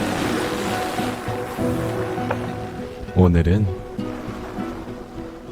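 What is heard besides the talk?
ocean waves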